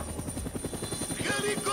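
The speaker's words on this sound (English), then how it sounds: "Helicopter, helicopter." A helicopter in the video game Poppy Playtime, rotor blades thumping in quick steady pulses at a moderate distance, with brief game sounds rising near the end.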